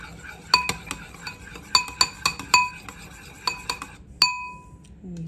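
A spoon stirs coconut milk into a Hawaiian chicken salad in a glass or ceramic bowl, giving a series of sharp, ringing clinks at an irregular rhythm, close up and clear with no talking.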